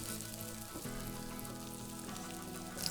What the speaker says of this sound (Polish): Cebulka i wieczarki już się smażą.